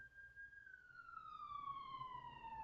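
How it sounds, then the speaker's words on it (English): A siren in a horror video game wails in one long, clear descending tone that stands alone over a faint background. "What's that sound? Is it a siren?"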